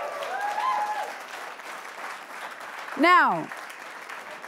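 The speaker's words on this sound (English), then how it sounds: "Round of applause." Audience applause at a New York Times debate in Davos, a soft, diffuse spread of clapping under a speaker's voice, with a brief louder voiced sound near the end.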